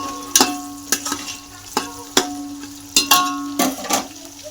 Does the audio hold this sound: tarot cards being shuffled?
no